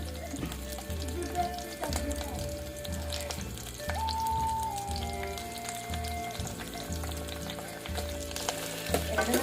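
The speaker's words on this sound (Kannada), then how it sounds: "ಚೆನ್ನಾಗಿ ಫ್ರೈ ಮಾಡ್ಕೊಳ್ಳೋಣ." Garlic sizzles and fries steadily in a pan while cooking obbattu saaru, a Karnataka sweet-lentil soup, with a continuous close crackle, occasional stirring scrapes and a faint background tone.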